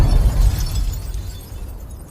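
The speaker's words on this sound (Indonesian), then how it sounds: "lalu dengan sekejap bom meledak pada ruangan itu" A bomb detonates inside a room in a film scene: one loud, deep explosion with a broad burst that decays into a rumbling tail over about two seconds, with no talking.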